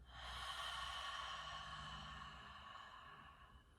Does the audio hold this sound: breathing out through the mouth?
yes